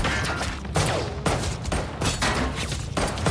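Bursts of gunfire in a film gangster shootout against a Russian gangster, several loud rapid volleys of shots separated by brief pauses, close and dominant with no talk.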